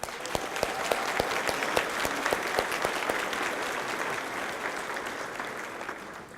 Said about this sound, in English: give a round of applause to our poet laureate, Joyce Staples